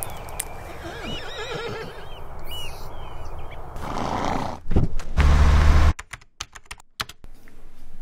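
A horse whinnies in the opening seconds, a wavering high neigh set over keyboard-like tapping and clip-clop, followed by louder broadband noise and sharp clicks later on.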